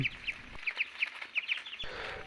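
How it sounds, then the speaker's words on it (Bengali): Young Muscovy ducklings peeping in a quick, repeated string of high chirps, close by. "আমি যেভাবে চীনা হাঁসের বাচ্চাগুলিকে ব্রুডিং করি"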